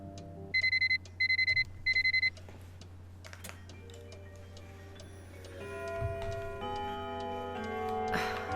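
An alarm clock in the Nancy Drew: Curse of Blackmoor Manor video game rings in three short, bright electronic bursts. Low ambient game music hums underneath and swells toward the end.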